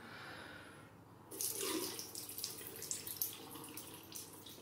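Water is tipped out of a shaving soap container, leaving a little around the puck, while wetting a shaving brush: a steady close pouring splash that starts after a quiet moment and runs on with small gurgles.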